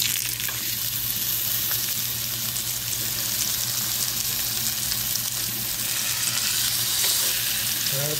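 Wagyu steak sizzles steadily in oil heated to its smoking point, a loud, close, continuous frying hiss with no talking.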